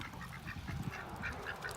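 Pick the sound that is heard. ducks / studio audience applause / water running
ducks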